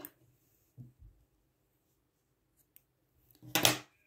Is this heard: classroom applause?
no